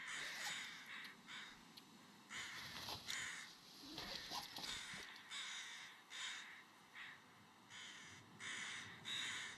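Several crows caw repeatedly in short bursts in the video game The Long Dark, fairly near, with quieter rustling and faint background noise between calls.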